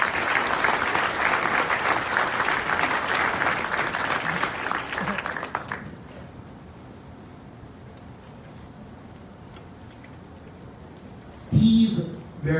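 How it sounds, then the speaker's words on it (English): An audience at a college moving-up ceremony breaks into dense, sustained applause for about six seconds, then the hall quiets to low room noise before a brief loud bump near the end. "let's give a warm round of applause for our supervisor, Mr. Alan Ray Villaverde."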